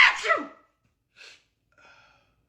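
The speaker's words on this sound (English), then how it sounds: "Fake sneeze in front of your dogs." A person fakes a short sneeze in front of dogs: one loud burst at the start, then a brief snuffle and a faint dog whine or breathy response, with quiet gaps between.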